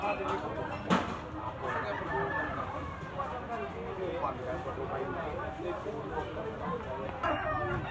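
Young white-legged stag gamecock of regular size crowing and clucking among other fowl, the calls layered over steady yard noise, with a sharp crow near the start and people talking throughout.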